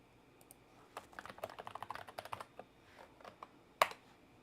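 Typing on a computer keyboard, a quick run of clicking keystrokes that rises into a busy burst, then a few scattered taps and one sharp louder clack near the end, close and fairly quiet with no talking.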